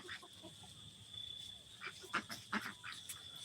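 Farm ducks quack and honk in scattered calls mixed with other fowl, faint and somewhat distant over a steady background hum, a few louder calls near the end.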